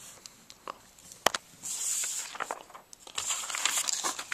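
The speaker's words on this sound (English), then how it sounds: "and then I erase the outsides" Pencil eraser rubbed over paper to remove graph lines while solving an algebra problem, giving soft scratchy scrubbing strokes in short bursts, fairly quiet and close.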